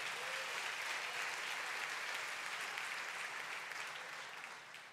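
A church congregation breaks into steady, dense applause that holds for a few seconds and then slowly fades, heard alone without talk.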